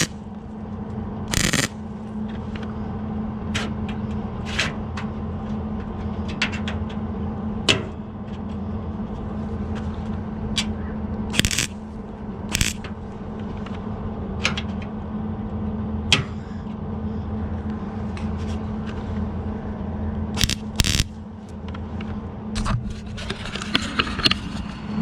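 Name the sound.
tack welding a rust repair patch panel on a Chevelle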